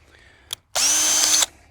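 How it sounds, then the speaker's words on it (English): A power drill with a larger bit bores through an anchor during dead-man tower work, starting after a short tap and whining loudly and steadily for under a second before stopping. "I've got a bigger drill bit here."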